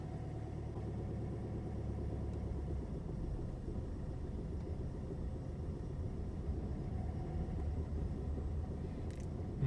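A car engine runs at a steady low rumble, held at constant throttle while a learner driver eases out the clutch, continuous and close throughout with no speech.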